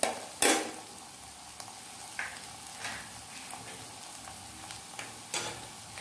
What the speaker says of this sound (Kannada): ಸ್ವಲ್ಪ ಫ್ರೈ ಆಗಬೇಕಿದು ಈರುಳ್ಳಿ ಎಲ್ಲ ಮೆತ್ತಗಾಗಿದೆ